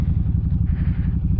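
A motorcycle engine idles up close with a loud, rough, low chugging pulse that repeats steadily without letting up.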